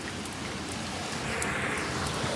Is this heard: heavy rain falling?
yes